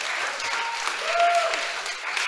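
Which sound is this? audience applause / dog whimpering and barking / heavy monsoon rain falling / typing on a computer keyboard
audience applause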